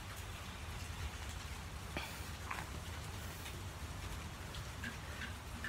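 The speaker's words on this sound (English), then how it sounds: "Man, it's raining out here." Steady rain falls outdoors, a constant hiss with scattered drops ticking nearby; no one speaks.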